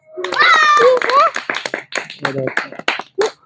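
Children clap their hands in a short, scattered burst, close by and mixed in with a voice talking.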